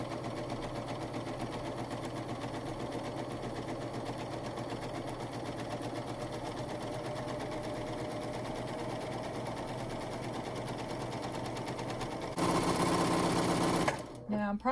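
A PFAFF admire air 7000 serger runs steadily at high speed for about twelve seconds with a corded wavy foot, its fast dense stitching hum loud and close, then shifts louder briefly before stopping with a few clicks.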